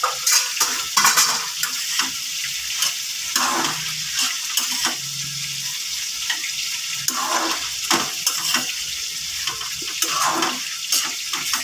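A fried fish head sautéing with spices in a pan, with a continuous loud sizzle and frequent metallic scraping as it is stirred close up, no talk.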